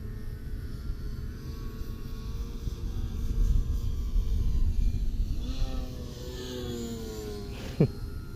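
E-Flite Timber X RC airplane with full-wing ailerons flying outdoors, a steady motor drone that swells in the middle and then changes pitch as it passes, with one sharp knock near the end.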